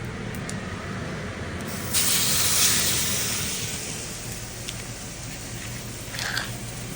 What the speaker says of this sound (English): I want a nice sear on the steak. That's why I preheated the pan so hot.